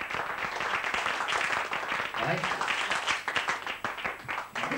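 A pub crowd at a 1980s charity night in Collyhurst breaks into sustained applause, a dense wash of clapping with voices calling out over it.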